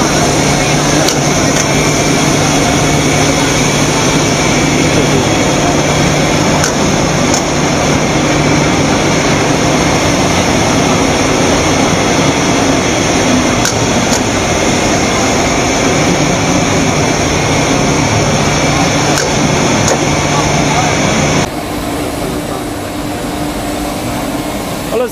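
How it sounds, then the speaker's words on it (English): Foam-cutting machine slicing rubber foam and EVA foam, a loud, steady mechanical drone with a constant hum that runs unbroken for about 21 seconds before abruptly dropping to a quieter idle. "So this machine can cut the rubber foam like this, cosmic and the EVA foam."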